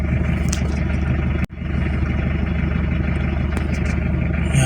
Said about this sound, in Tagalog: binuksan ko yung bintana para mas marinig natin yung tunog ng engine